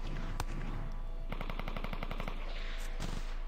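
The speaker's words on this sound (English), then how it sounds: "Still taking fire from that top right." Gunfire comes from the top right during a training exercise. It is a rapid automatic burst of evenly spaced shots with a few single sharp cracks around it, at moderate distance over a constant low hum, with no talking.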